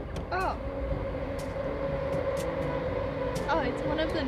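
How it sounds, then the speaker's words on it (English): A train rumbles past at close range in the Blue Mountains with a steady roar and rail squeals, one rising whine near the start and another later on. "Train is coming."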